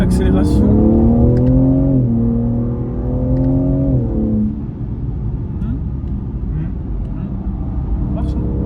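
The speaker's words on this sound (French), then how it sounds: "Petite accélération." BMW M3 G80 Competition saloon with a 510 hp engine pulls hard under acceleration, its loud rising engine note climbing through gear changes for about four seconds before settling to a steady drone, with someone talking over it.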